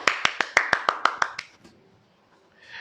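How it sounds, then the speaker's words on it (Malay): Pupils in a primary maths class clap their hands in unison, about nine crisp, evenly spaced claps in a quick steady rhythm, then a pause and faint voices. "Tepuk tangan sikit."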